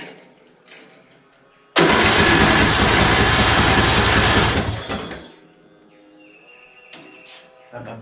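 A Yard Machine engine with a freshly repaired carburetor and cleaned fuel tank starts, catching abruptly into a loud, rough, close running roar for about three seconds before cutting out, followed by small clicks and handling noises.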